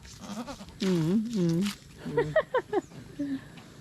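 A goat bleats in several wavering, nasal calls up close, with a few shorter choppy cries after them and faint background noise.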